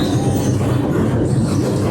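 LRT light rail train rumbling overhead above a busy street market, a steady low roar with rattling wheels close by throughout.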